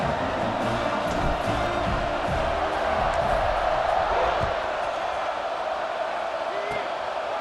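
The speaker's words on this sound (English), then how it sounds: "this crowd is buzzing after that last score" Stadium crowd noise in EA Sports College Football 26 after an Oregon touchdown run, a steady loud roar that never lets up, with buzz and scattered shouts filling the whole stretch under faint background talk.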